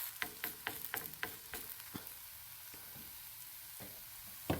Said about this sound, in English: now we're using spatula for pressing gently